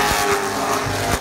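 Racing cars howl past on a race track, several loud engine surges sweeping by in quick succession with some tire noise, no talking.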